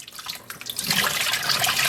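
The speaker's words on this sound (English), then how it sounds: "I'm now going to fill the basin one more time to help remove that soap" Tap water rushes into a basin being filled to rinse soap from neon-dyed roving, starting as a thin trickle and swelling into a louder, steady gushing splash close by.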